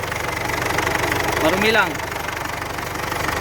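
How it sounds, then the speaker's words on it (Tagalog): Engine of a 2007 Ford Everest second-generation with its cover off runs with a steady loud drone and vibration, with a brief rising whine partway through and a short spoken remark over it. "Tunog na makina."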